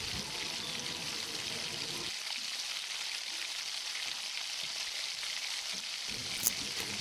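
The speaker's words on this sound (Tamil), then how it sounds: "ரெண்டு நறுக்கிய சின்ன வெங்காயம் சேர்த்துக்கலாம்" Sliced shallots sizzle steadily in hot oil close by while cooking egg and bean poriyal, a constant crackling hiss with a faint clink near the end.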